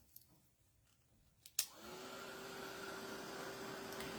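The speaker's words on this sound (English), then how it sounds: "I'm gonna go ahead and use my dryer again a little bit." After a few faint clicks, a hand-held dryer for drying watercolor paint switches on and blows air in a steady whoosh with a soft whine.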